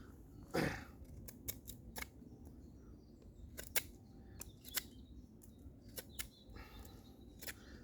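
A reworked-bevel Kephart knife makes a series of sharp, crisp slicing snicks, irregularly spaced and close, after one longer rasping cut at the start, in a quiet setting.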